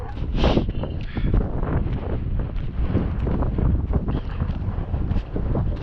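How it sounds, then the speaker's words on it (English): Strong, chilly gusting wind outdoors in East Lothian buffets the microphone with continuous rumbling roar and bursts of rustling, no speech heard. "it's chilly and it's windy at the moment"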